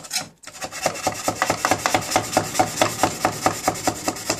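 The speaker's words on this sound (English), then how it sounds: "paint scraper here, that's getting underneath of it" Paint scraper rasping Plasti Dip off an aluminum base, a rhythmic series of close, gritty scraping strokes after a brief pause, loud and without talk.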